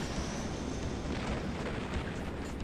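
A continuous rumbling roar of a video game explosion, dense and steady with a low crackling texture, moderately loud and unbroken throughout.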